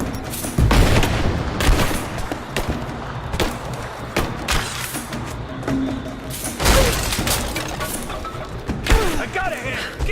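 Rise of the Tomb Raider gameplay combat with bursts of gunfire and heavy booming shots, irregular and punchy, mixed with mechanical clatter and occasional shouted voices.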